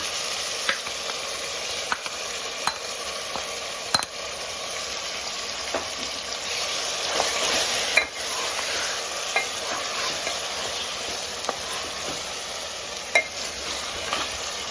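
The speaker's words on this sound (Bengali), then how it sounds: "খুব বেশি নাড়ার দরকার নেই, জাস্ট 2 থেকে 3 মিনিট আমি একটু হালকা ভেজে নেব।" Marinated mutton frying with onions and spices for a korma, a bright steady sizzle broken by regular clicks and scrapes of a stirring spoon against the pan, close and unvoiced.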